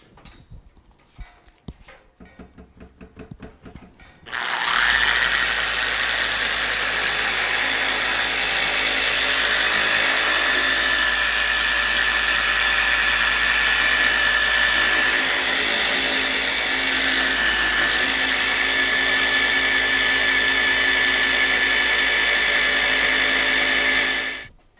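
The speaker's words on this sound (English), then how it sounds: "this polisher is going to be very smooth. It's going to be quiet compared to other polishers." A FLEX 3401 polisher fitted with a cutting pad spins up after a few soft handling knocks, then runs as a loud, smooth, steady whirring hum with a clear whine for about twenty seconds before shutting off.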